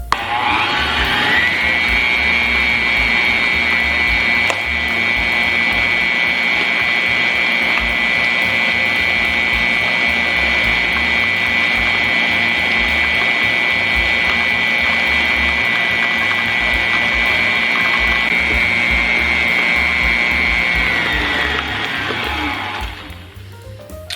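An electric mixer runs steadily for about twenty seconds, beating butter and cream cheese together for a Thanksgiving pound cake batter. The whirring motor hum stays loud and even from start to finish, then winds down at the end, with no talking over it.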